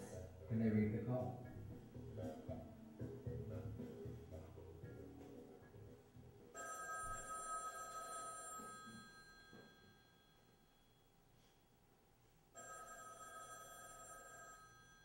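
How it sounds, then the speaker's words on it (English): An old telephone bell rings in a 1950 home setting, two bright sustained bursts of ringing separated by a pause, heard over a low rumble and muffled background sound. "Harry Hay answers the phone discreetly."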